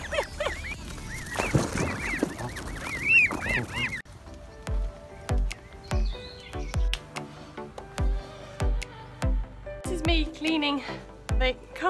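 Geese honk in a close, lively cluster of nasal calls for the first few seconds, then give way to a series of sharp, rhythmic knocking sounds with a few faint calls behind.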